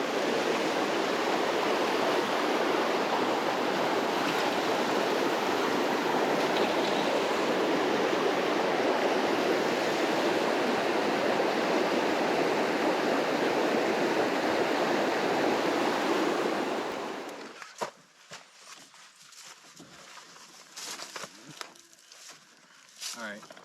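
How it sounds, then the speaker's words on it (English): Waterfalls in Algonquin Park during a spring canoe camping trip, a loud steady roar of rushing water filling most of the clip before cutting to quieter outdoor ambience with faint rustles. "Just gonna head down here to take a look at these waterfalls."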